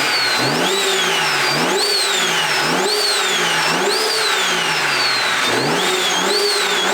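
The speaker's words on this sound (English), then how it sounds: "seems like the engine's good, the turbo's good, everything sounds amazing" BMW 335i engine fitted with an upgraded turbo, revving repeatedly in steady rising-and-falling sweeps, loud and close with no voices over it.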